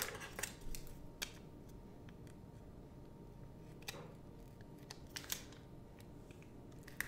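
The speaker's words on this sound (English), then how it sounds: "Let's cut the bottom off of it." Scissors snip through paper in a few quick, crisp cuts spread across a quiet room, the blades closing close to the microphone against a faint steady hiss.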